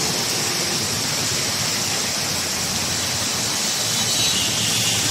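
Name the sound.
heavy rain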